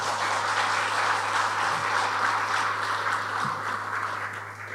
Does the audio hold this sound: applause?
yes